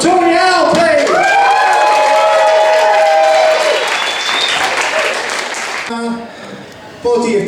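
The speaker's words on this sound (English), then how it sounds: "Let's have a big round of applause for Tnt Open, please!" Audience applause at an open mic comedy night, a dense burst of clapping and cheers with whoops, loud and close, fading after several seconds, while a voice talks over it.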